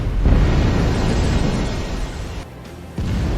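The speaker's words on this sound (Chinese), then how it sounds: "警告射击" A 76 mm naval gun fires a warning shot at sea: one loud, close boom that rolls on in a long rumble, dips briefly near the end, then swells again.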